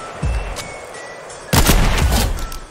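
Gunfire in Fortnite: a sharp shot early on, then a dense loud burst of rapid shots after a quieter stretch of game ambience.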